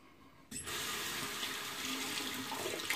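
Tap water suddenly starts and runs steadily into a sink while a Wilkinson Sword razor handle is rinsed, a close, continuous hissing splash that lasts to the end.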